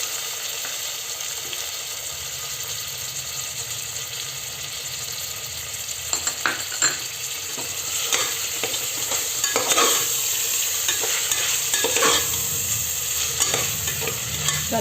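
Tomatoes sautéing in a pan with ginger-garlic paste and turmeric for biryani, a constant frying sizzle with intermittent scraping stirs that grow busier in the second half, close and without talk.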